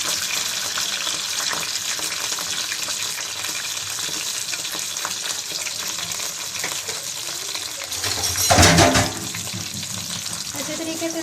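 Onions tossed into hot oil sizzle and crackle steadily, close up, with a louder burst of hissing and stirring clatter partway through.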